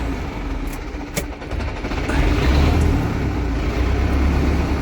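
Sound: Zetor 7011 tractor engine running after gearbox repair

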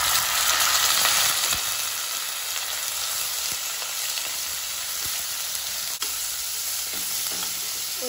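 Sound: chicken sizzling as it is fried with onions

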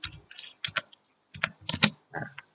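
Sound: typing a search keyword on a computer keyboard

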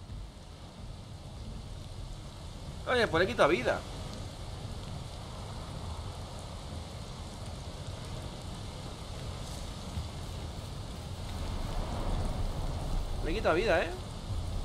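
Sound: rain in the video game Valheim

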